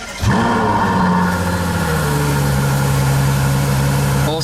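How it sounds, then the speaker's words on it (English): Ferrari FF V12 engine cranking and catching with a sharp rise, then settling into a steady, loud, smooth idle heard close up. "key in, turn it, and then you get the Ferrari start button"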